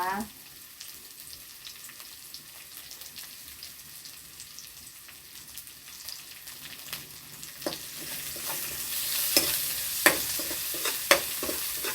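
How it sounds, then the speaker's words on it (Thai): Thinly sliced garlic, pepper and ginger stir-fried in a pan, giving a steady low sizzle. The frying grows louder toward the end, with sharp spatula scrapes and clacks. "ผัดค่ะ ผัด ให้ หอมจ้ะ"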